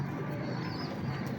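Pedigree pigeons, teddy and purebred birds kept by a pigeon fancier at his home loft, cooing softly and continuously in a close, low murmur under steady background ambience.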